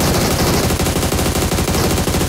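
Dense, loud automatic gunfire from a PUBG Mobile match: rapid bursts of shots run continuously and close throughout, with no talk over them.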